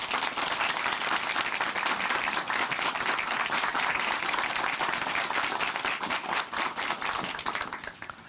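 A church audience at Chuncheon Hanmaum Church applauds to welcome a speaker: dense, sustained clapping from many hands, steady and full for most of the stretch before thinning out near the end.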